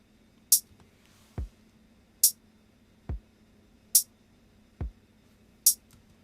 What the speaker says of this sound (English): to hear what this kick and hi-hat would actually sound like at the same volume